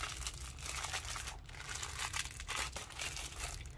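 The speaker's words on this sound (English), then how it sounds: "Sorry for the crinkling." Plastic packaging crinkling while a parcel of goods is unboxed, a steady close rustle with a few sharper crackles.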